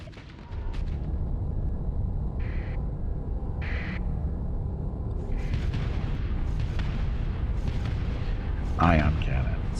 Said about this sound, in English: Ion cannons.